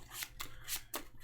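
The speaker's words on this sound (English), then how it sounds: "I'll shuffle all this up." A deck of Marvel Champions cards being shuffled by hand, four crisp riffling bursts in quick succession, close and fairly quiet with no talking.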